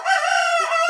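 A single chicken on a farm gives one short, harmonically rich crowing call, close and clear, lasting under a second with no talk.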